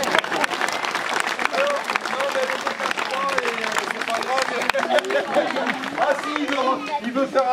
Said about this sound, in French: On peut applaudir Pascal.